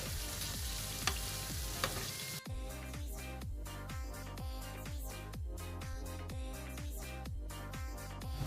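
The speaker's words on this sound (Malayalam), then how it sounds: "ബാക്കിയിരിക്കുന്ന കട്ട്ലറ്റും കൂടെ ഞാൻ എണ്ണയിലേക്ക് ഇടുകയാണ്." Chicken cutlets sizzling steadily in hot oil, with a bright hiss that turns into rhythmic bubbling crackle once more cutlets are dropped in, close and continuous with no talking.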